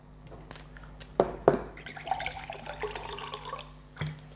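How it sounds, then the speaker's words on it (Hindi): Oil poured into two glasses of water, a soft liquid trickle with a few sharp splashy onsets, fairly close and moderately quiet, with no one talking. "उसी प्रकार का मैं ऑयल दोनों ग्लास में ले रहा हूँ"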